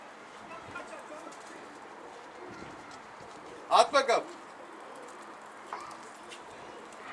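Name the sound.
pigeons cooing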